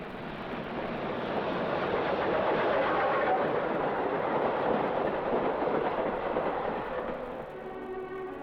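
A train rumbles past with a broad steady roar that swells and then fades, faint rhythmic clatter emerging as it recedes; no voices.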